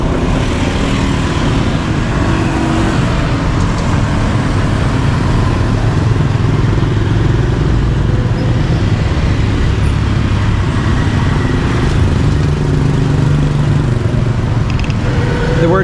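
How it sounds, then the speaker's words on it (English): Rush-hour traffic on Road 6 in Siem Reap, Cambodia: a steady, loud wash of cars, motorcycles and buses passing close by without pause, engines droning and mingling throughout, with no one talking. "I'll give you a view of rush hour on Road 6 here in Siem Reap"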